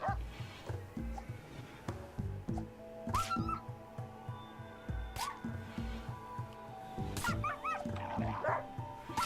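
A fox in the colony-survival game Rimworld gives quiet, scattered yips and cries above a steady, rhythmic game soundtrack thumping underneath.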